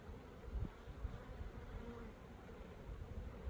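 Honeybees buzzing while a beehive is split using the shake-down method, a faint, continuous hum of many insects close by with no talk over it.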